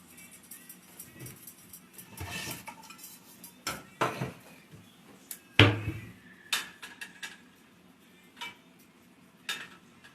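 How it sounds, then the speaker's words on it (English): Pots and pans clatter on the stove as pork is cooked in a home kitchen, scattered metallic knocks, scrapes and utensil clinks spread over several seconds, fairly close, with no talk. "Now I'm going to cook the pork."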